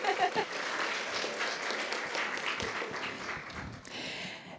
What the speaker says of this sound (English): you guys, I think we should clap for that